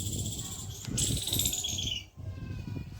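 Village birds, including parrots and pigeons, call in the morning: thin high chirps and whistles over a steady murmur of low background noise, briefly dipping near the end.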